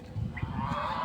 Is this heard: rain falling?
no